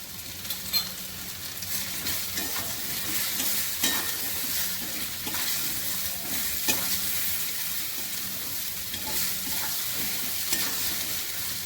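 Ground cumin fries with fish curry ingredients for a parshe fish and brinjal curry in a home kitchen, giving a steady close sizzle with intermittent stirring scrapes throughout, no talking.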